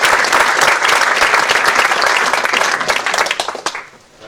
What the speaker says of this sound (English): I'm sure we're all happy to give applause